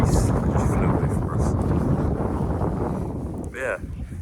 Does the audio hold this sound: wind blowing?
yes